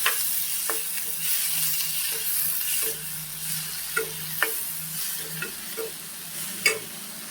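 Tomato frying in a pan for a Sunday sandwich, a steady close sizzle with scattered scraping clicks from stirring, no talking.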